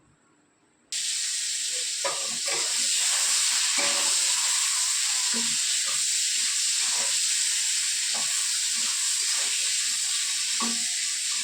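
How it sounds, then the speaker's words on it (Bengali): Tomatoes hit hot oil in a Bengali home kitchen pan just after potatoes have fried, setting off a loud, steady sizzle that holds for about ten seconds, with scattered stirring clatter on top and no talk. "এর মধ্যে টমেটো দিয়ে দিলাম তেলের মধ্যে"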